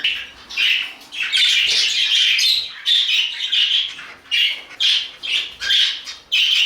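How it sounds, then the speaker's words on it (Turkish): A yellow budgerigar kept in a cage with other budgies chatters and squawks up close in a busy, continuous stream of raspy chirps and warbles with only brief gaps. "Bu da sarı olan muhabbet kuşumuz."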